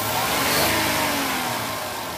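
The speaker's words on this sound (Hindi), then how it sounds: "प्रॉपरली रेस ले रही है गाड़ी" A Maruti Alto K10 engine with an accelerator fault revs and climbs in pitch, then eases back. The mid-pitched engine note is loud and close, with no talk over it.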